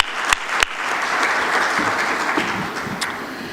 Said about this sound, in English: we would give you a big applause again